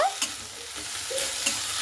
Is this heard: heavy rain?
no